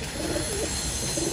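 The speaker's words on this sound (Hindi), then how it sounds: "ये देखें ये कबूतर" A pigeon coos softly in short, low murmurs over a steady background hum.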